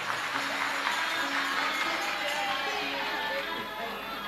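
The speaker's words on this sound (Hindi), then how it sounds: "एक बार जोरदार ताली" Sustained crowd applause from an audience at a Shiv Mahapuran religious discourse at the Magh Mela in Prayagraj, a dense, steady wash of clapping filling the whole stretch at even loudness.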